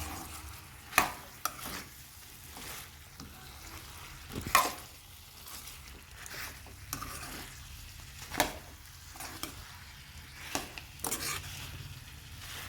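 Chicken fry is stirred in a pan with coriander powder and chicken masala: repeated scraping, clinking spoon strokes against the metal over a soft, steady sizzle, close by with no voices.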